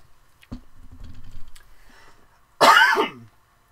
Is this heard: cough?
yes